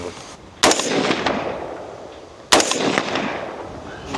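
Two sharp, loud gunshots about two seconds apart, each followed by a long ringing echo that fades slowly.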